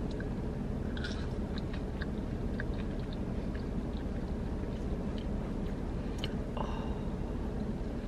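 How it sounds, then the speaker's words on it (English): Someone chews a french fry dipped in hot honey mustard, with soft, close crunchy bites and wet mouth sounds repeating over several seconds; no talking. "I'm gonna try the hot honey mustard with a french fry."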